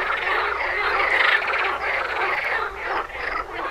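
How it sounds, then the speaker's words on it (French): A dense chorus of frogs croaks continuously from a pond or river bank, a loud, rattling, overlapping din with no pauses or talk. "Oh, les grenouilles, c'est chiant."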